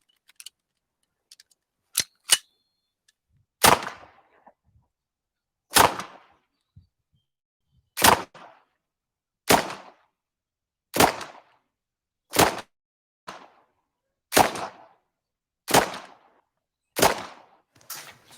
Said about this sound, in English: Oh, that's not bad shooting.